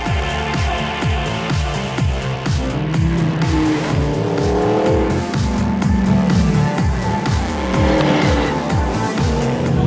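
Cross-country race car on a six-kilometre hot lap, its engine roaring loud and close with rhythmic gear-change pulses and squealing tyres throughout, no talk.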